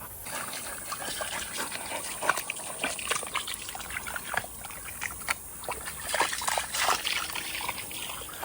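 Water trickling and dribbling as a swampy pond on a homestead is drained, irregular splashy gurgles and small gushes, fairly faint and close by, with no talk.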